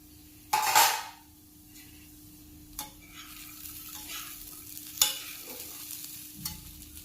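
Papaya curry with potatoes fries in a pan, a soft sizzle under sharp clanks from a lid or spoon and scraping stirs, one loud clatter near the start and another later, with no talking.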